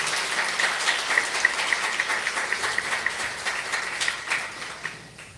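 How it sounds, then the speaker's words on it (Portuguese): Sustained applause from a church audience at a novena service for the Infant Jesus of Prague, steady dense clapping throughout and fading slightly at the end, with no speech over it. "Uma salva de palmas"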